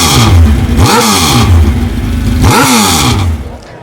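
A race car engine barks loudly through two sharp revving bursts, each rising and falling, over a steady rough idle and ending in a brief drop.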